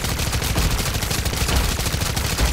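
Rapid gunfire in the video game Modern Warfare 3 zombies mode, a dense, loud stream of automatic shots with heavy low thumps, nearly continuous throughout.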